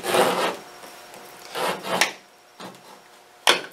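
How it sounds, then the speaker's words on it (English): Several rasping scrapes as a blade is drawn across stiff board, a long stroke then shorter ones, close up and fairly quiet. "Don't want to score too hard because you don't want to tear or cut the poster board."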